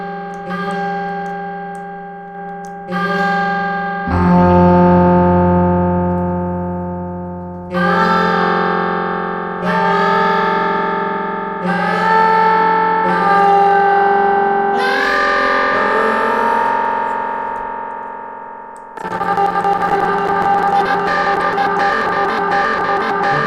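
Synth tones from the Output Exhale plugin run through two delay effects, each struck note ringing out and echoing into a long, bright decaying tail, with layered chord stabs and a denser burst near the end.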